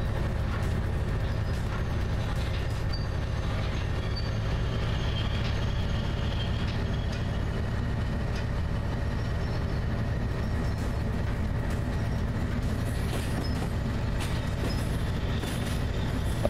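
Yugoslavian shunter locomotive in the train simulator Derail Valley, a steady low diesel drone with a rumbling, rattling underlayer that runs unbroken at constant loudness, without talk.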